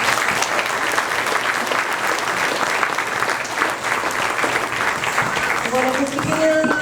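An audience at a Cupertino spring showcase of Kathak dance applauds steadily and loudly, with a voice starting to speak over the clapping near the end.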